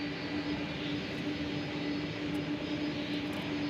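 A UPS MD-11 taxiing at DFW airport, giving a steady, moderately distant engine roar with a sustained whine that holds evenly throughout.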